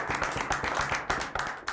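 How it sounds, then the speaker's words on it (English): Steady crowd clapping, many hands at once, dense and continuous throughout the short burst. "I'd like a round of applause for the people who are."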